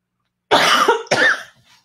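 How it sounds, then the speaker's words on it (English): A person coughs twice in quick succession, two loud, harsh bursts close to the microphone, the second slightly shorter, then silence. "I love how I'm coughing."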